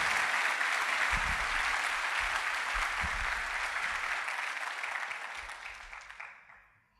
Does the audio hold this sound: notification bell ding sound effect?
no